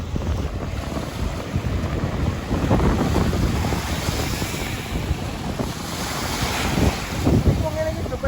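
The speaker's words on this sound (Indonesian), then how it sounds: "Ombaknya datang pelan, seakan sengaja tidak ingin merusak ketenangan suasana." Gentle ocean waves roll onto a white-sand Bali beach, a steady broadband wash with slow swells rising and easing, mixed with noticeable wind buffeting the microphone and no voices.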